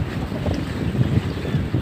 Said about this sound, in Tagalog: Kana kusog ang hangin diha.